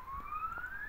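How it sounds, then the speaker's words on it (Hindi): In the video game Rope Hero: Vice Town, a police car siren wails at a distance. It is faint, with one steadily rising tone over a low background rumble. "पुलिस की गाड़ी की आवाज़ आ रही है"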